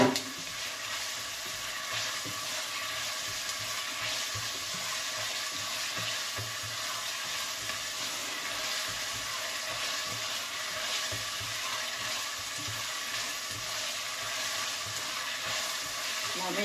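Garlic frying in hot oil in a pan gives off a steady, even sizzle that holds at a moderate level throughout, close and continuous, with a faint voice underneath.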